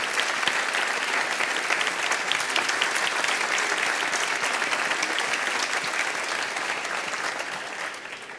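Sustained applause from an audience at a book presentation, dense and steady for the whole stretch, tapering slightly at the end.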